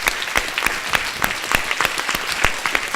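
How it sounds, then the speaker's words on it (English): Dense, steady audience applause for a panel at a Q&A session, close and fairly loud, with many hands clapping continuously for the full three seconds and no talk over it. "So I want to give a round of applause to our awesome panel."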